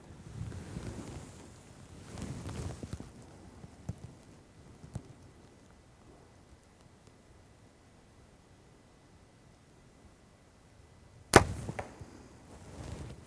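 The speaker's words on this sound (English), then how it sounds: "I'm going to make an awesome shot on a huge buck across the creek." A bow releases an arrow at a buck across a creek: a single sharp snap and thwack near the end, after a long stretch of faint outdoor wind and rustling.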